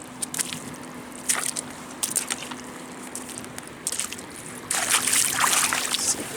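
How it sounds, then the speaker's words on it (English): Small piece of metal rinsed by hand in shallow river water on a muddy foreshore, with intermittent soft splashes and sloshes close by, growing louder and more continuous near the end. "I'm going to go over here and wash off the little piece of metal I found a moment ago"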